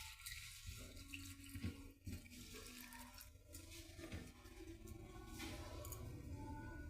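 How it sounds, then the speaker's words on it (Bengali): Water pouring and splashing into a large bowl as flattened rice (chira) is washed, a steady close running-water sound with small sloshes throughout and no speech. "প্রথমে আমি জল দিয়ে চিড়াটা খুব ভালো করে ধুয়ে নেব।"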